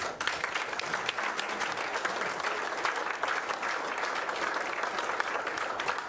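Steady applause from a crowd at a candidate forum in Marysville City Hall, dense clapping that holds at an even level throughout, fairly close.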